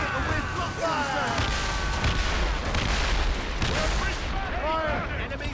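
Naval cannon fire in Assassin's Creed Rogue rolls through a dense, continuous battle din of booms and crackling blasts, with shouted crew voices mixed in throughout.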